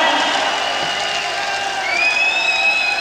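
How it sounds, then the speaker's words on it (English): A concert crowd at a Brixton, London rock show cheers and applauds steadily for a guest singer, with dense sustained clapping and high whistles rising near the end. "Big round of applause!"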